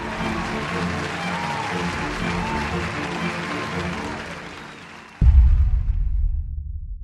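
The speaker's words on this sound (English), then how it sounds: "Applause, please." Audience applause fills the first five seconds as a steady, dense clatter of many hands, then cuts abruptly to a louder, low rumbling crowd sound that fades toward the end.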